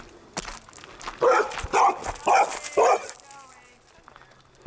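Dog barking at Colonel Francis Beatty Park in Charlotte, North Carolina: four loud close barks in a row, with people talking before and around them.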